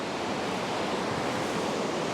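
A waterfall pours in a steady, dense rush of white water, a close and continuous roar with no other sounds over it.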